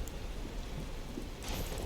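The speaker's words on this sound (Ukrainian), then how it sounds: "знову дощ" Steady rain falls in the open world of Elden Ring, a soft continuous hiss with a faint brighter swell near the end, no voices.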